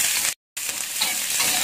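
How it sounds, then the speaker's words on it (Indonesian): Onion sizzles in hot frying oil over medium heat as it is sautéed and stirred, a close, steady crackle briefly cut by a moment of silence. "Tumis bawang bombaynya sampai harum."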